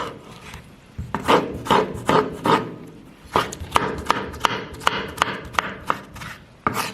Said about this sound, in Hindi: हम जल्दी जल्दी से टमाटर काट लेते हैं इसके लिए